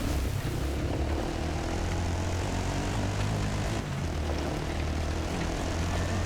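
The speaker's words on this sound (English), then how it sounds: "That helicopter's followed me for a long time" Low, steady propeller-type aircraft drone, most likely a helicopter flying overhead and following a quad bike racer across the Dakar Rally course, holding a continuous loud rumble without pause and with no voices over it.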